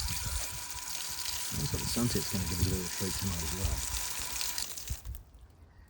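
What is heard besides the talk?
water cascading down a tree trunk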